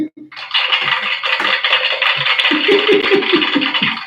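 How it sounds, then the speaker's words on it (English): A homemade applause machine gives a dense crackling hiss like scattered pops or rain, with low thumps and knocks running under the steady noise, loud and close. "my applause machine doesn't sound like applause at all"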